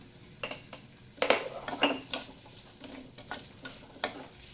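Onion and green chili sauté in hot oil with salt, a soft sizzle under repeated scrapes and clinks of a spoon stirring against the pan in uneven strokes.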